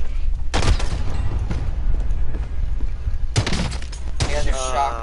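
Shotgun blasts ring out in a Call of Duty video game: three sharp, booming reports, widely spaced, over constant game ambience and background chatter.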